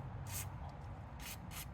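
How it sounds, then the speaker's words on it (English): Penetrant is sprayed from a can onto crusty rear drive axle bolts of a BMW Z3, three short hissing bursts with a faint puff between them, close and quiet. "So I'm going to spray some penetrant, and I'm going to kind of scrub some of this stuff off."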